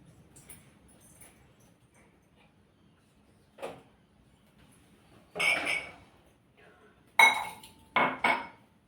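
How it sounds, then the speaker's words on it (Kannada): Sporadic clattering of dishes, pots and cutlery being washed, a few sharp clinks and bangs separated by quiet pauses, close by. "ಒಳಗಡೆ ಹೋಗಿ ಪಾತ್ರೆ ಅದೆಲ್ಲ ತೊಳಿತೀನಿ"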